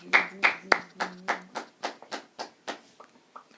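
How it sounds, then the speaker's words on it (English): A few people clap in a small room, about a dozen distinct slaps in a steady rhythm that gradually fades in loudness, close and dry with no crowd roar. "Round of applause for the masterpiece of The Age of Pleasure."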